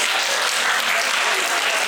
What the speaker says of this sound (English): may I ask for some applause for our esteemed speakers?